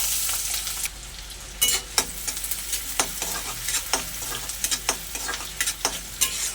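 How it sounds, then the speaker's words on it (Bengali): Chopped onion frying in hot mustard oil with bay leaf and dried red chilli, a steady close sizzle broken by repeated sharp scraping stirs of a spatula, no talk. "এবারে দিয়ে দেবো পেঁয়াজ কুচি।"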